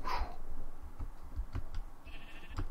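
A sheep bleats once at the start in the Minecraft video game, a short nasal call followed by soft, evenly spaced low thuds.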